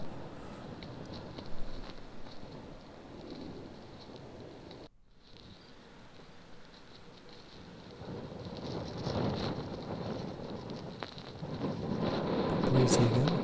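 Wind blowing across an open park in Richmond, London, a steady rushing buffet on the microphone that briefly drops out and then swells louder toward the end.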